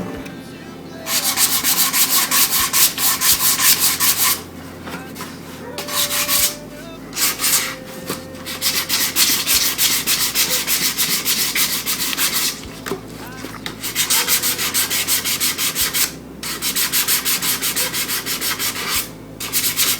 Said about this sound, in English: And I'm using 120 grit here. It's pretty coarse